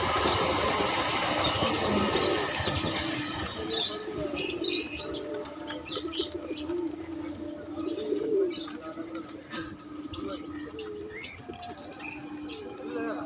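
Pigeons or doves cooing with scattered bird chirps at a busy outdoor pet market in Naihati, heard under steady crowd murmur and nearby speech throughout.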